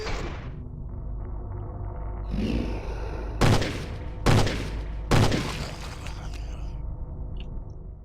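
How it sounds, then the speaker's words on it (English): Slow, heavy gunshots from a weapon in the video game Cthon: three loud, separate blasts a second or so apart, each with a sharp attack and booming tail, over steady game ambience. "I do not like how slow this gun fires, though"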